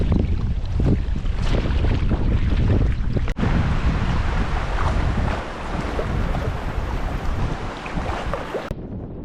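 Strong wind of around 65 miles per hour buffets the microphone on the River Spey during a packrafting trip, a loud, continuous roar with gusting rumble and rushing water beneath, cutting off abruptly at the end.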